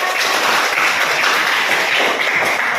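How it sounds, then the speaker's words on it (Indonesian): Classroom applause from students, a brief burst of dense, even clapping filling the room at close range with no talk over it. "Tepuk tangannya untuk Eva."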